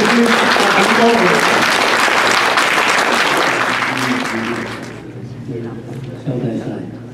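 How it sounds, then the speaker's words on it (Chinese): Loud, sustained applause from an audience at a memorial gathering held in California for Professor Peng Ming-min, with crowd noise and voices mixed in. The clapping fades toward the end, then picks up again in a brief burst. "这边的掌声来，掌声！"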